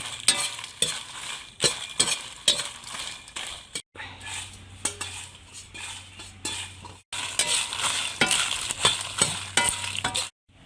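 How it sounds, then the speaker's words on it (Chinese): Sichuan peppercorns are stir-fried over high heat in a wok for a pork offal hotpot. A spatula scrapes and clanks rhythmically against the metal in bursts over a loud, crackling sizzle, with one brief pause. "再加一把的花椒一起炒"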